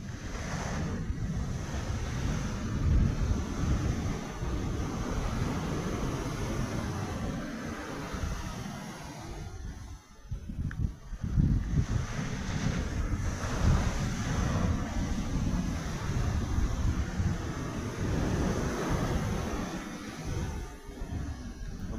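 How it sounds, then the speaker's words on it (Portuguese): Rough, high sea surges and breaks against the shore at a fishing spot, a continuous churning roar with rolling swells and wind, and no voices. "Mar bastante alto."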